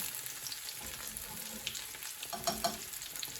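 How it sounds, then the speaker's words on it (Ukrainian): Liver sizzles and spatters steadily in a hot frying pan while being browned on both sides, with a few louder pops near the end and no talking. "З обох сторін вже піджарюємо."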